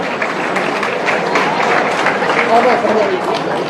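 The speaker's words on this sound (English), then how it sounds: "Can we give AAACU removalists your biggest applause possible?" A gala dinner audience gives a sponsor a warm round of applause, a broad wash of many clapping hands that swells slightly and stays loud, with faint voices mixed in beneath.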